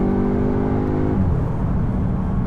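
A 2022 Audi S3 turbocharged engine pulls hard under acceleration, its harmonic drone climbing steadily then dropping after a shift before building again, loud and close from inside the cabin with no talk.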